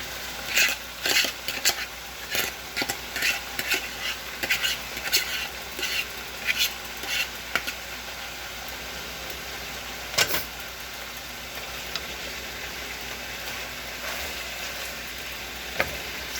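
Boiled noodles are stirred gently in a pot with a soft, steady wet swishing over background hiss, with clustered clinks and scrapes early on that fade into a quieter simmer.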